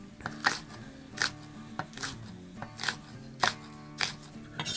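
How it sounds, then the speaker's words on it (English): Knife dicing half a red bell pepper into small pieces on a cutting board, a steady series of crisp chopping strokes roughly every second, close and clear, with no talking. "I'm gonna grab a half of a red bell pepper. And again, I'm gonna dice this down quite small."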